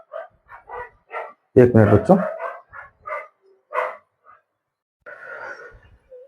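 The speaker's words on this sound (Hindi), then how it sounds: "डॉग भौंक रहा है, पता नहीं चलता है।" A dog barks in a series of short, sharp bursts in the background of a coaching-class lesson, the barks interleaved with a teacher speaking to children.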